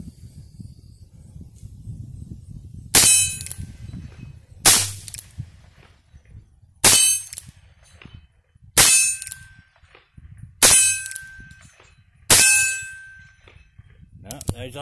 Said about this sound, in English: I'm gonna just be shooting at the steel target down there.